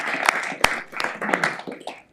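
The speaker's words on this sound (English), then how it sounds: "Let's give Alina another big round of applause." A city council meeting audience applauds a photo contest winner: a scatter of handclaps with a few sharp, louder slaps, heard at moderate distance over a murmur of voices.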